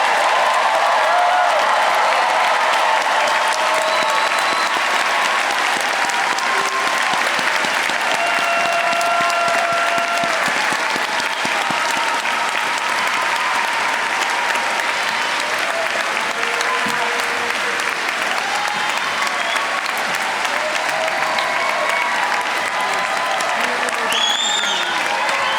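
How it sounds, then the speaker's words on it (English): A large audience at a medical school commencement and hooding ceremony applauds the graduating class of doctors, with long, dense, unbroken clapping that holds steady in loudness for the whole stretch. "let's give this class of doctors a round of collective applause."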